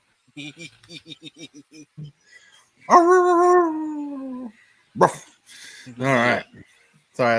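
A man imitating a dog with a run of short yips, then a long drawn-out howl and a few more barks and yelps, loud and close, with brief speech at the end.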